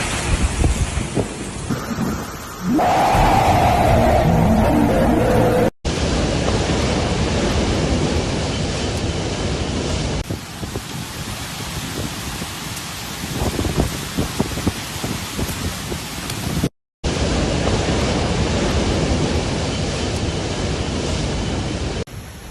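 Typhoon Bebinca in Shanghai drives a steady, loud roar of wind and heavy rain across the whole stretch, with gusty surges and brief breaks between takes, and no talking.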